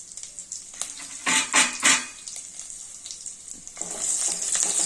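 Garlic, cumin and fenugreek powder sizzling in oil for a Telugu dal with green chillies, a steady hiss with a few louder crackling bursts early on, then rising again toward the end, with no talk.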